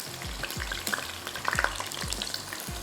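Potatoes frying in hot oil over lowered heat: a steady sizzle with soft stirring scrapes and light thumps recurring every half second, moderately close, with no talk.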